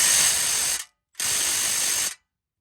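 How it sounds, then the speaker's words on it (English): A Milwaukee M12 Fuel power tool with a 21 mm socket works a bolt on an Audi rear shock, giving two loud, steady whirring ratchet bursts of just under a second each, separated by a short silence. "So I got the 21 millimeter on my little M12 fuel. Let's see if I can get this loose."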